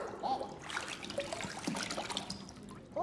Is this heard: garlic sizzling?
no